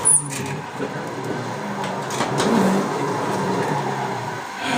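Nissan 180SX drifting on a mountain touge course in Assetto Corsa, its engine droning steadily at mid revs with a slight swell midway, fairly loud and continuous with no voices.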